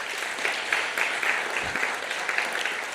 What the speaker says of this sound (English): give you a round of applause too?